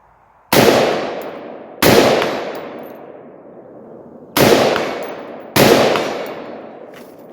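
Four loud rifle shots from a 13-inch AR fired at a 100-yard range, each a sharp crack with a long decaying echo, spaced irregularly about a second or more apart with no talking.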